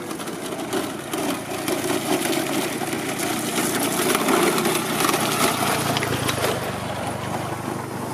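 A motorcycle engine idles and revs steadily nearby in an outdoor setting, with a continuous low mechanical drone and slight swells in loudness throughout.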